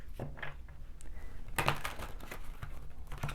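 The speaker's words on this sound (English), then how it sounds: "Let's do some shuffling." Tarot cards being shuffled by hand, heard as soft, uneven papery riffles and taps with one brighter burst near the middle, quiet and close with no talking.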